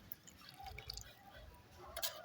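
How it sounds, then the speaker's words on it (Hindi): Water poured slowly to one side onto the soil of a freshly repotted rose cutting, a soft, quiet trickle and patter of drips lasting a couple of seconds, with no talking. "और पानी हम आराम से डालेंगे एक तरफ।"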